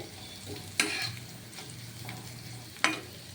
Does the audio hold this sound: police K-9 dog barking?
no